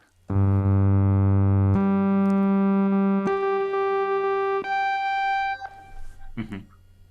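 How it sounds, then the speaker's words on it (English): An analog synthesizer plays a brassy sawtooth wave as a loud, sustained buzzy tone stepping through several held pitches, then it fades out to quiet. "you would think of a sawtooth wave as sounding brassy"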